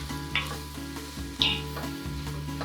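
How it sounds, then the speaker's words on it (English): Vegetables sauté in a soup pot, a steady close sizzle with low humming undertone, broken twice by brief sharp stirring scrapes. "All right, so we will just saute this for a little bit. I want this to cook down."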